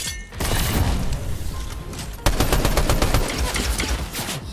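Continuous gunfire in the Fortnite video game, including a mythic auto weapon and a shotgun, with dense rapid bursts and loud booming shots throughout and no talk.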